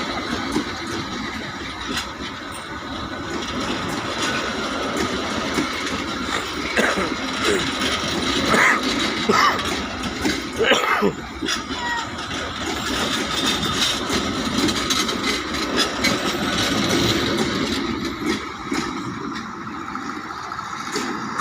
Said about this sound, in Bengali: এই মুহূর্তে কিন্তু জাফরশাহী রেলওয়ে স্টেশন থেকে বাহাপুর ইসলামাবাদ স্টেশনের উদ্দেশ্যে জামালপুর এক্সপ্রেস ট্রেনটি ছেড়ে গেল